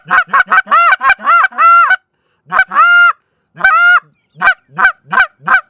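A hand-held goose call is blown to mimic geese, producing a loud, close series of sharp honks and clucks in quick bursts, several rapid ones, then a few longer drawn honks, then rapid honks again.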